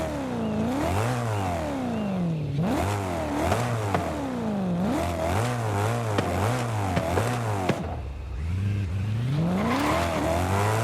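A 2002 BMW M3 GTR race car engine in Forza Horizon 5 revs and climbs through gears again and again, a loud snarling exhaust rising and dropping with each shift, with brief tire noise.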